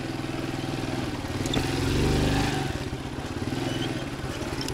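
A G-moto Cross X pro 125 off-road moped climbs a short steep wall, its small engine putting out a steady close buzzing drone that swells briefly and then settles back, with no talk.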